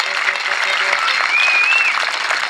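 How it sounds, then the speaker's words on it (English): Crowd applause at a Jefferson County Tea Party event, given for event organizer Ken: steady, dense clapping throughout, fairly loud and continuous, with a brief whistle rising over it midway. "He can't get enough applause today, so let's give him another one"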